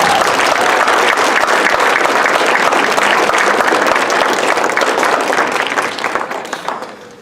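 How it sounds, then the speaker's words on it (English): A crowd at a band gathering gives loud, dense applause that holds steady for several seconds, then thins out and fades toward the end. "Please give him a warm applause."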